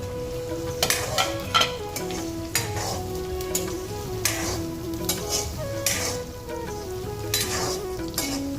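Paneer sizzles as it hits a hot pan of golden-browned ingredients while cooking palak paneer, with a steady frying hiss and repeated sharp scrapes and clinks of stirring against the pan, close and loud with no talking.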